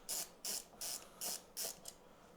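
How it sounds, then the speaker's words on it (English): Screws being backed out of the outer frame of an LG 49-inch TV during a backlight repair, heard as six short, evenly spaced ratcheting bursts from a driver, close and fairly quiet. "We're going to go ahead and take our screws out"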